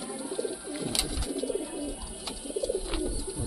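Pigeons of the Giribaz and Kalanka breeds coo in a pigeon house, repeating soft throaty calls in short bursts at close range against a low background hum.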